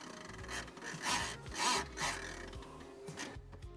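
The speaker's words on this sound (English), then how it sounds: "You pull it all the way out and then you slowly release it and you can hear it ratchet back together" A car seatbelt slowly retracting and ratcheting back into its reel, a close, faint rubbing rasp with soft, uneven clicking swells, heard alone without speech.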